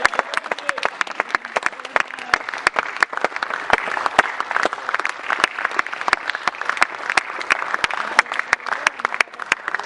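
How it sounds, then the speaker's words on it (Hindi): An audience at an IIT Guwahati poetry event bursts into sustained applause to welcome a poet, many hands clapping loudly and continuously for about ten seconds, with no speech over it. "आज कवि को एक बार बहुत जोरदार तालियों से उनका आगाज हो जाए।"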